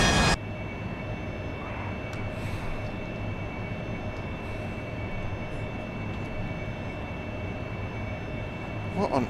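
An AV-8B Harrier jet engine in DCS World roars as a steady, dense drone for the full stretch, loud and constant with slight flickers of cockpit noise.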